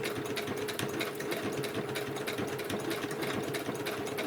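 A sewing machine runs steadily and close, its needle chattering in a fast even rhythm as it back-stitches over earlier stitches on a washcloth soap-saver pocket.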